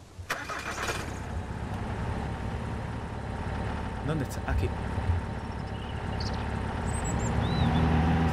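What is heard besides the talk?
car engine starting in video game Mist Survival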